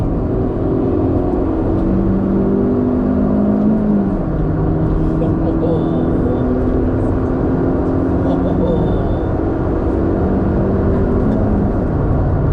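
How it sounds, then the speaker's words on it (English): A Proton Iriz 1.6L Premium manual hatchback accelerating hard in 3rd gear, its engine drone steady and loud inside the cabin with a rising whir of road and wind noise, heard alone throughout. "if you just want to get away fast, downshift to 3rd."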